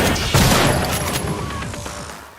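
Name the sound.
gunfire and explosions from video game Spec Ops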